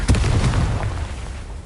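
A Confringo blasting spell explosion in Hogwarts Legacy, one short booming blast with a deep rumble that fades quickly, loud and close.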